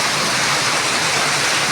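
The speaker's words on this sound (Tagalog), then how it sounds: "Grabe, ang ulan eh." Heavy typhoon rain pours down without pause, a dense, loud, steady roar of water with no voices present.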